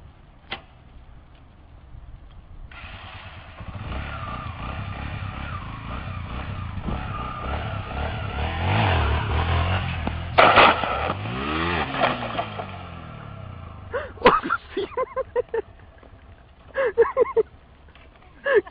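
A motorcycle doing stunt manoeuvres idles and builds to a long, rising engine roar, then revs in sweeping up-and-down bursts before dropping off, with excited voices shouting near the end.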